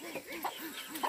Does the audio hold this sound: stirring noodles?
no